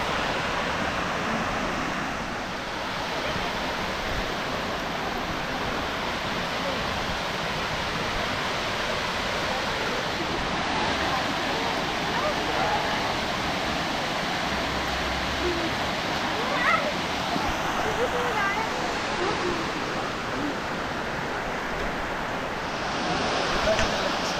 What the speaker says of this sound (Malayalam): മാടശ്ശേരി വെള്ളച്ചാട്ടം നമ്മുടെ അമ്പൂരി പഞ്ചായത്തിലെ ഒരു അറിയപ്പെടുന്ന ഒരു സ്ഥലമാണ്